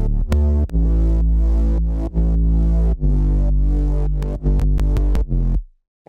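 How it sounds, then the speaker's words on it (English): Synth basses play alone, a dense, sustained low line with rich harmonics that shifts pitch in a steady rhythmic pattern and ends with a brief cutoff and silence. "This is how the basses sound on their own."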